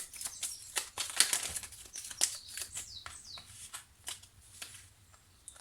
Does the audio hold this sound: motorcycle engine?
no